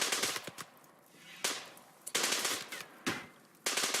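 Rapid gunfire in the colony-sim game RimWorld, several separate broadband volleys of shots crackling in bursts with short quiet gaps between them, fairly close and loud, no voices.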